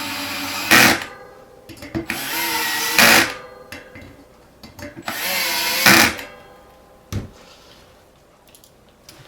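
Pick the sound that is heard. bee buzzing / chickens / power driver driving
power driver driving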